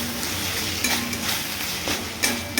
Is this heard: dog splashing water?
no